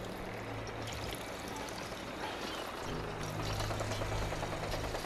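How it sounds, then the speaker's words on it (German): Water being drunk in the video game Fallout 4, a steady pouring, trickling wash of water that runs continuously and grows slightly louder midway, with no talk. "Aber wir können mal ein bisschen Wasser trinken,"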